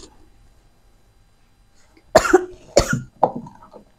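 A few sharp coughs in quick succession after a quiet stretch, close and fairly loud, followed by a throaty hack.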